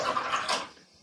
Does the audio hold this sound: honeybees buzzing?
no